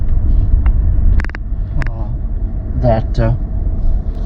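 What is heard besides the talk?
car driving through Tunica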